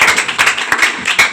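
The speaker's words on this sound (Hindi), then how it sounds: "बहुत बढ़िया, ताली बजा रहे हैं।" An audience claps at an Independence Day school program in Pratapgarh, Uttar Pradesh, a brief burst of loud, dense, close-up clapping with a few sharper accents.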